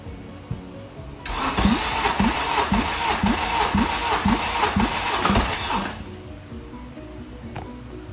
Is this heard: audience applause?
no